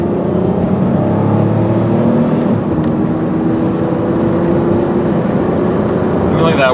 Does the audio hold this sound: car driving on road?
yes